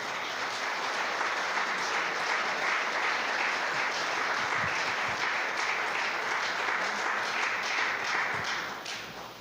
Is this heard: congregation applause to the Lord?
yes